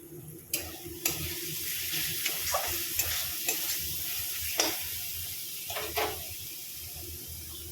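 Tomato gravy for tofu, with kasuri methi added, sizzles softly in a pan while a spoon scrapes and stirs in a series of short, sharp clinks and scrapes over the steady frying hiss.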